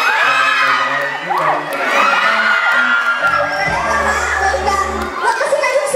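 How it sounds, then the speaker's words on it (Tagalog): A group of wedding guests, adults and children alike, shouts and cheers loudly together for the full length, a dense, lively crowd roar with overlapping voices and whoops. "Wag kasi kayong sumisigaw agad."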